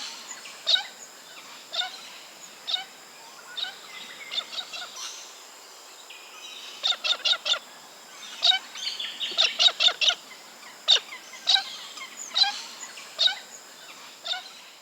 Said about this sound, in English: Galahs form huge and noisy flocks that feed on seeds and roots from the ground.